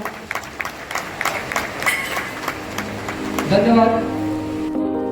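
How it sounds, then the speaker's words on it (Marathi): Audience clapping at a village annual gathering during an honouring ceremony, scattered claps building into fuller applause, with a voice and a musical tone rising near the end. "जोरात टाळ्या वाजवा."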